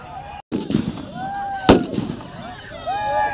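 A firecracker bomb goes off at a village football final: one sharp, loud bang stands out amid crowd noise, with voices talking and calling throughout.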